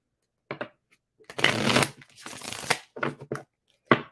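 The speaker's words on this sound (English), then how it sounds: "I'm going to shuffle again" Tarot cards are shuffled by hand in several rustling, riffling bursts of uneven length, close up with brief gaps between them and no talking over the sound.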